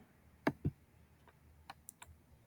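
Computer mouse clicks in a quiet room, two crisp close clicks followed by a few fainter, lighter ticks.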